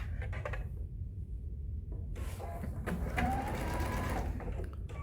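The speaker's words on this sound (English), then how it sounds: "I'm going to go to my machine and I'm going to sew a 1/4 inch seam." Sewing machine stitching a quarter-inch seam on fabric for a star table runner, a steady motor whir running throughout at close range, alone without talk.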